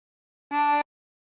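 A 24-hole tremolo harmonica sounds a short drawn note as breath is pulled in through hole 2. The single reedy tone lasts about a third of a second and is close and clear in silence.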